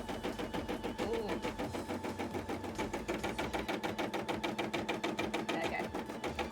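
Embroidery machine stitching decorative work on a sequined costume, a steady rapid mechanical chatter of repeating needle strokes, close and loud throughout.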